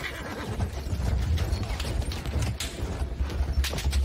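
Horse neighing and clip-clopping hooves while riding in the video game Battlefield 1, a steady busy bed of game battle noise with no talk over it.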